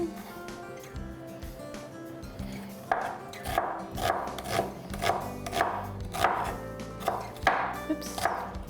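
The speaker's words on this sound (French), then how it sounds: "Hacher notre oignon." A knife chops an onion on a cutting board in a quick, steady rhythm of close, crisp thuds after a quiet start.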